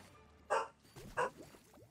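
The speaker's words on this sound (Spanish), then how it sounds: "hay un perro que está ladrando" In the PS4 game Ratchet and Clank, a dog barks twice, about a second apart, faint and somewhat distant, with quiet background noise between the barks.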